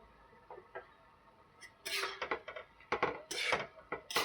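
Pumpkin greens with whole sesame seeds being stirred in a pan, giving quiet scrapes at first, then a busier stretch of utensil clatter and scraping against the metal in uneven bursts, fairly close.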